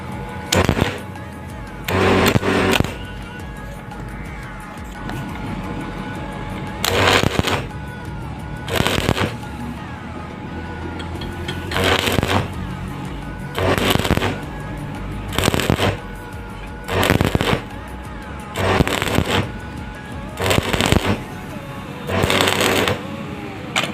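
Intermittent stitch arc welding on metal, a series of separate loud crackling buzzy bursts a second or so long, spaced by short pauses, close to the microphone.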